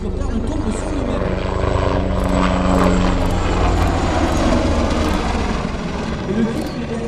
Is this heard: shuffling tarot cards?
no